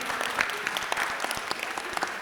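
A small school audience claps at a non-violence and peace day event, a brief round of fairly sparse, distinct hand claps with individual sharp slaps standing out, moderately close.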